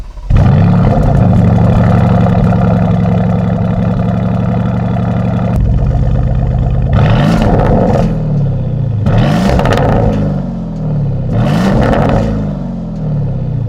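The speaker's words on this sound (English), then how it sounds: "Right up front, we have Porsche's twin turbocharged 4-liter beefy V8." The twin-turbo 4-liter V8 of a Porsche Cayenne GTS SUV starts with a burst and idles loudly and deeply, then gives several sharp rising revs in a row, close up and without talk.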